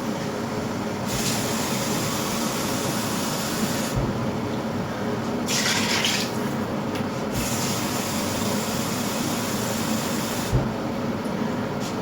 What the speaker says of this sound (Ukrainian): зараз наливаю водички